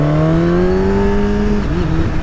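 A Kawasaki ZX10 sport motorcycle engine drones loudly and close, holding a steady high tone that climbs slightly before the revs shift and dip near the end.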